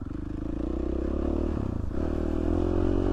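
A motorcycle rides a dirt trail in the Danskin Mountains, its engine droning loud and close with clatter and scraping over rough ground, the pitch dipping briefly before the throttle picks back up.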